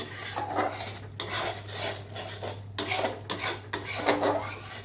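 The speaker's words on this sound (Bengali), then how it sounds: "এবার মশলাটাকে কষাবো" Mustard and poppy seed masala being sautéed in oil in a pan, with a continuous sizzle and repeated scraping strokes of a spatula, close and moderately loud over a steady low hum.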